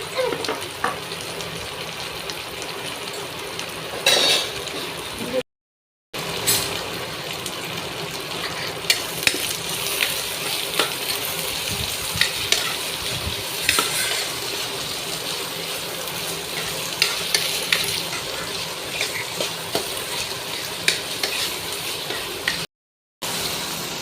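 Onions frying for egg puffs, a steady close sizzle with frequent scraping stirs in the pan, continuing throughout with two brief dropouts.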